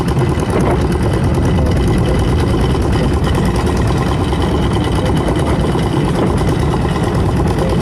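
A mini pickup truck's small engine drives steadily in second gear, a loud, continuous mid-pitched drone with a faint rattle running unbroken from start to finish, close by and with no talking over it.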